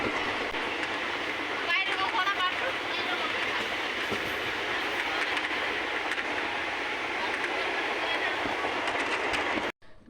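Heard from inside, a passenger train rolls along the rails with a continuous rumble and faint rhythmic clatter, voices murmuring underneath until the sound cuts off sharply near the end.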